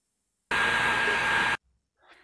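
Hair dryer blowing steadily for about a second to dry decoupage on a washable dessert plate, a loud, even rush that starts and stops abruptly, followed by a faint rustle.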